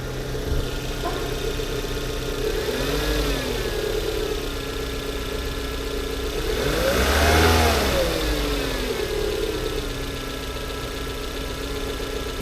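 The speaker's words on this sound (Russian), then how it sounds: "Но мне все равно не нравится, как работает мотор." A car engine runs rough and misfires, idling with an uneven, shaky drone, then revs up and back down twice, the second rise longer and louder, heard close with no talk.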